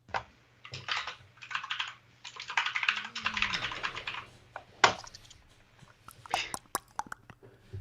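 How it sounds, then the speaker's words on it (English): Rapid bursts of clacky keystrokes on a mechanical computer keyboard come in irregular clusters with short pauses, close and fairly loud, with a faint low hum underneath. "Keyboard getting a battering there."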